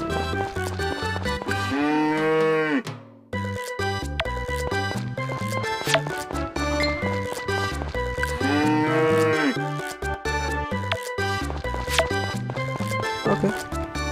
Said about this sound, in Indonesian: Keluarin aja ya sapi-sapi kalau mau keluar.